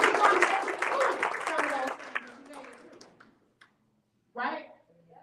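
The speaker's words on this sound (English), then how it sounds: "Clap it up for yourself." A live audience claps together at a motivational talk, a dense burst of applause that thins out and trails into scattered claps, then a short renewed flurry near the end.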